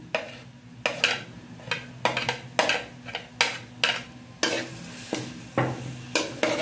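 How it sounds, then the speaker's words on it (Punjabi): Garlic with onions frying in a pan for baingan bharta, stirred in regular scraping strokes about every half second over a soft, steady sizzle, close and clear. "ਨਾਲ ਹੀ ਅਸੀਂ ਇਹਦੇ ਵਿੱਚ ਲਸਣ ਪਾ ਦੇਵਾਂਗੇ।"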